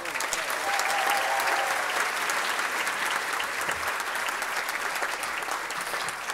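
Sustained, dense applause from an audience at a 25th anniversary gala of an Ethiopian diaspora society, welcoming a writer and activist to the stage; steady clapping fills the whole stretch at even loudness.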